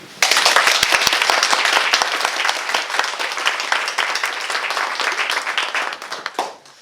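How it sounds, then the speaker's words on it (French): An audience at an amateur theatre performance breaks into loud, close applause for Madame Bardi, opening with a few distinct claps before swelling into dense, sustained clapping that fades out near the end. "applaudissements pour Madame Bardi"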